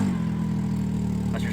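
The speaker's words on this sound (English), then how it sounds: "That's your stock exhaust right there." A Can-Am side-by-side with its stock exhaust idles in a steady, low, even rumble close by, with a brief extra noise near the end.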